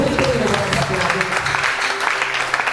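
A church congregation applauds in a steady patter of clapping, close and continuous, with speech mixed in.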